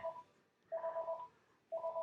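Home telephone ringing, a close electronic trill in repeated bursts of rapid warbling pulses separated by short silences, alone with no talk.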